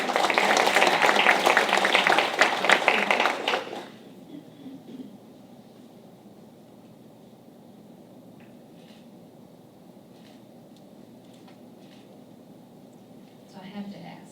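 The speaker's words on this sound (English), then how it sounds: "Can Mom stand for a round of applause as well?" A loud burst of audience applause fills a school board meeting room for about four seconds, then cuts off to a quiet room hum with faint shuffling.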